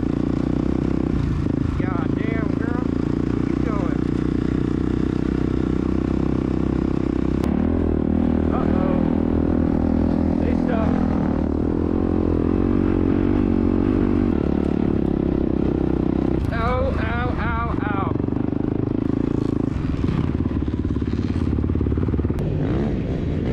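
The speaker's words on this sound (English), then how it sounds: "get ready for this dirt bike ride out" Dirt bikes ride across the sand at Glamis Dunes during a Thanksgiving rideout, engines droning and revving steadily close by, with voices talking over the motor noise throughout.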